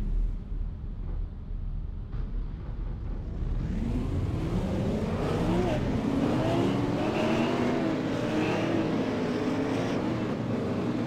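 Stock cars rolling out for qualifying at Martinsville Speedway in iRacing build from a low idle into a growing chorus of engine drones, pitches climbing and overlapping as the field picks up speed, steady and fairly loud.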